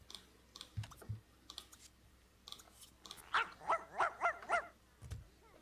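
A dog in The Sims 2 video game barks and growls in a quick run of about five sharp, close barks. A few soft thumps come before it, and no one speaks.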